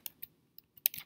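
A few sparse keystrokes on a computer keyboard while typing a web address, isolated clicks spaced apart and then a quicker cluster near the end, close and fairly quiet.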